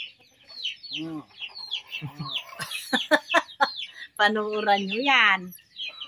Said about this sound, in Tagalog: nakita yung mga manok kong alaga